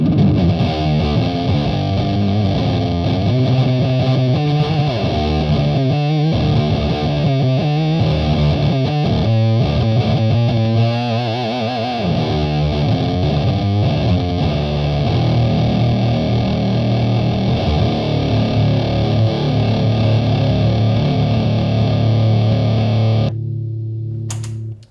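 A Stratocaster with single-coil pickups played through a custom amplifier with a boost box hitting the preamp, giving a thick, heavily distorted sound of chugging riffs and sustained chords, loud and steady before cutting off abruptly near the end.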